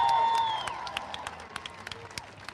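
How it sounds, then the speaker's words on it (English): Crowd at a public hearing claps in a short burst of applause that quickly thins into scattered individual claps, fading over a couple of seconds. "Everybody give them a round of applause"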